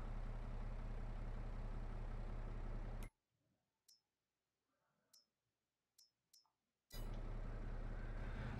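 A Farming Simulator 22 tractor engine drones loud and steady, cuts to near silence broken by a few sharp interface clicks, then roars back in at the same level.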